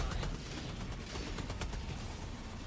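Shooter game gunfire fills the scene, dense rapid bursts of shots and booms rolling continuously at steady loudness, with no voice over it.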